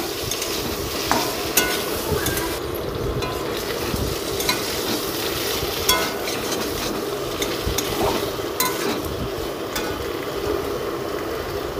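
Pointed gourd and potato pieces sauté in a pan with a steady, loud sizzle, while a spatula scrapes and stirs now and then with short clacks against the metal.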